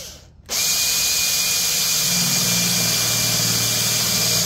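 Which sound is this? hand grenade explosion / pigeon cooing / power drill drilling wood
power drill drilling wood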